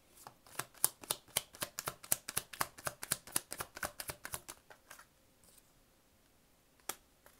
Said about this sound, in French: Allez, quelques cartes de tarot ici.